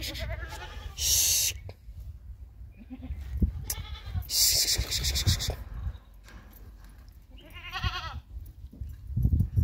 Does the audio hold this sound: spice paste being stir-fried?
no